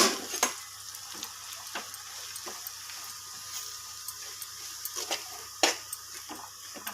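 Ground curry leaf chili powder being stirred into hot oil in a pan, soft sizzling under faint scraping strokes with a few sharper spoon-on-pan clinks at irregular intervals, quiet and close.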